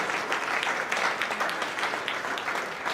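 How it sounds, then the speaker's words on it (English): Steady applause from a crowd, dense overlapping claps sustained at even loudness throughout. "Let's give them a round of applause for their work."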